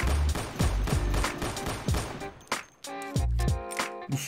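Glock pistol skin in Counter-Strike firing several sharp, loud shots in an uneven rhythm, with weapon handling clicks and a reload-like clatter toward the end.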